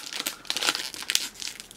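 Crinkling of a plastic sachet being handled while someone looks for an easy opening on an item from a December Wootbox subscription box, a close, irregular run of crackles and rustles with no talk.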